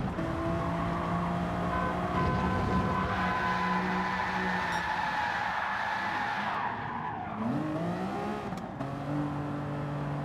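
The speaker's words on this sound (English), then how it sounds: "That wasn't a deliberate slide at the end there." A race car in a racing game slides across grass after braking late, giving a loud, continuous engine drone with tire skidding, and the engine pitch dips then climbs as it regains speed.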